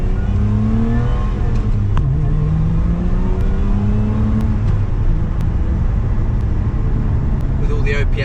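A 2023 Lotus Emira pulls away from a junction, its exhaust note rising in pitch through repeated gear pulls, loud and close from inside the cabin, with brief clicks of gear shifts between climbs.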